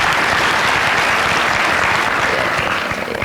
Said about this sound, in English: Don't clap for me.